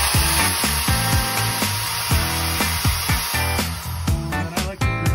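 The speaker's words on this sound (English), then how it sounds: "So we're going to drill this hole out right here. So I like to start with a 1/2-inch drill bit." A power drill with a 1/2-inch bit bores into the steel frame of a 1973-80 GM truck while a behind-bumper winch mount is fitted. A loud, steady motor whir and grinding run throughout with small pitch shifts, and no talking.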